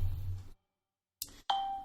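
A phone ringtone sounds in short chiming tones, a bright ding followed by a sustained ringing note after a moment of silence, fairly close and clear.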